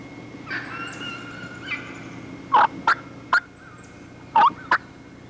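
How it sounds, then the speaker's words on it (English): A wild turkey gives a springtime kee-kee call: a few thin, rising whistled peeps followed by several sharp, raspy clucks in an uneven rhythm. The bird sounds fairly close. "The rasp and rhythm of this turkey I took notice of. A perfect example of a springtime kiki."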